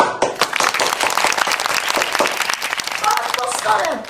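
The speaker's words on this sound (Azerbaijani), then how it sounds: "Bir dənə gürültülü alqışlar." A burst of loud crowd applause, dense rapid clapping filling about four seconds before thinning out with some brighter chatter-like tones near the end.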